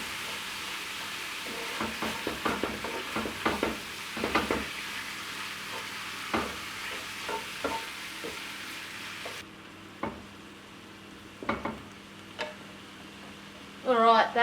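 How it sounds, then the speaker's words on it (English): Wild venison mince browns in a pan, with a continuous low sizzle broken by repeated scraping and stirring clatters of a utensil, some louder knocks, and a rattling burst near the end. "So we're just going to brown that mince off."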